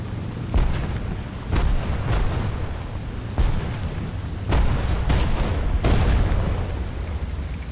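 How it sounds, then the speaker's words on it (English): The Akazuki destroyer's guns fire in World of Warships as a string of sharp booming shots, about eight of them at uneven intervals over a constant low engine drone. "I think that's the Akazuki shooting at me"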